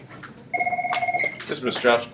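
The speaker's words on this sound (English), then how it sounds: "Oh, the phone's ringing." An office telephone rings in a classroom with a single electronic trill in two alternating tones, followed by someone speaking over the fading ring.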